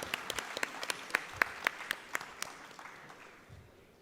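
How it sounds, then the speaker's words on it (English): At a CA students' conference, a small group claps in sparse, distinct, fairly close claps, loosest at first and then fading into quiet room noise. "Give a huge round of applause to CA Jagadeesh sir."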